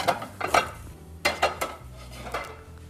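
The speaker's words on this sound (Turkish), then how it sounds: "Bir de tencerenin kapağını örtelim." Lids are set on cooking pots in a kitchen while Turkmen-style pilaf is prepared, giving a few close metallic clanks in small clusters over a low, steady cooking hum.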